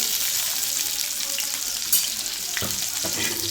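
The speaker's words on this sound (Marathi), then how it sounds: "त्यानंतर हा कांदा आपण जो चिरून घेतलेला आहे तो टाकायचा आहे" Chopped onion goes into hot oil on a tava for a Khandeshi mutton dish and sizzles with a steady, bright crackle, a louder burst near the middle, and a few soft clunks of stirring toward the end.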